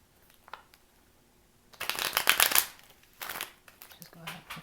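Bursts of tarot card shuffling, a soft riffle and then a longer brisk flurry of cards, close by, with quiet pauses between.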